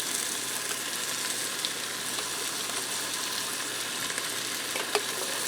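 Pre-diced garlic fries in a pan with browned sausage and onions for a one-pan cheesy sausage pasta, giving a soft, even sizzle with faint occasional clicks and pops.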